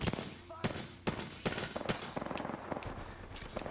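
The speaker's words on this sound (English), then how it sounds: "This is a machine gun, not good for long ranges." Rapid bursts of machine gun fire from the Apex Legends video game, a series of sharp repeated shots in quick rhythm with a low voice faintly beneath.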